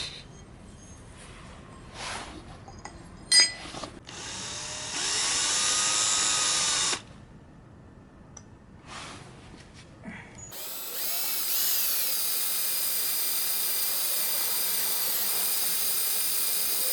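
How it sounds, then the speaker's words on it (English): A power drill whirs in several short bursts and one longer run while drilling a Suzuki engine mount, separated by pauses with faint mechanical clicks and shop noise. "Gonna drill it in the middle"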